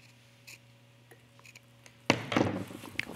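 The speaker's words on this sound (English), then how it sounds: "when I trim this, just like we did before, and then cut into each corner" Scissors trim fabric and snip into the corners of a sewn top's neckline; soft ticks come first, then a close burst of crisp cutting and rustling near the end.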